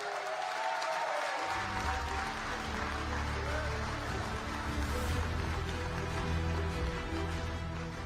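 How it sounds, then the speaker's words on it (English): Audience clapping at the Africa Bitcoin Conference 2024 during a morning session, a steady, sustained wash of applause that fills the room, with a low hum running underneath throughout. "Let's give him another round of applause, please."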